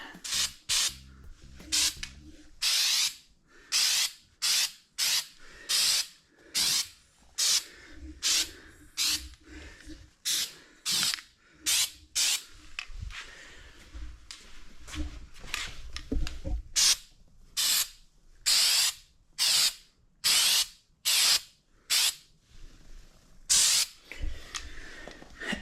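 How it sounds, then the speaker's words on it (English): Spray paint hissing onto the back ends of a 2018 Nissan Titan bumper, in a long series of short bursts with brief pauses between them, close and fairly loud. "Pretty much just trying to get these back ends painted and let it dry overnight."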